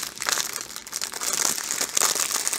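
Packaging from a diamond painting kit crinkles and rustles up close during unboxing, a dense, continuous crackle of plastic wrap with irregular louder crunches and no talk.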